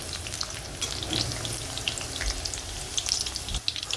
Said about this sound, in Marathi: ही अशी भेंडी फ्राय करून घ्यायची थोडा कलर बदलेपर्यंत आपल्याला तेलामध्ये फ्राय करायचं आहे